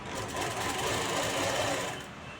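Sewing machine stitching fabric for a Pakistani-style sleeve, a quick rapid mechanical chatter of needle strokes at moderate level, steady for about two seconds before easing off.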